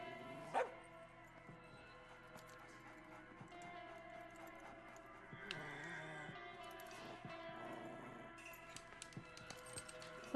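A dog in the video game As Dusk Falls barks and yips in short, scattered bursts, fairly faint and set back within a busy, layered game soundscape.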